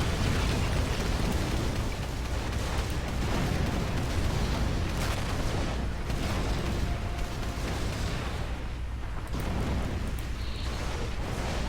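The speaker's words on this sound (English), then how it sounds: "Another howitzer position firing at the same batch of missiles, silos." Howitzer artillery fires at missile silos in the strategy game Rise of the Reds, a dense, continuous barrage of booming blasts and explosions that stays loud for the whole stretch.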